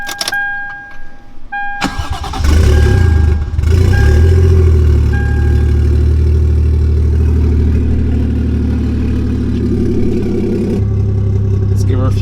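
A 1JZGTE-swapped Lexus IS300 cranks with warning chimes sounding, fires up loudly, then settles into a steady, throaty idle close by.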